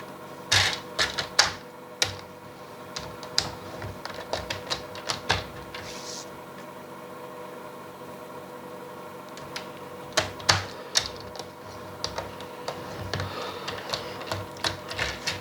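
A paper trimmer scores grooves into paper for a scrapbook book-shaped box. Close, irregular bursts of sharp clicks and scraping rasps come in clusters with short pauses, and no one talks.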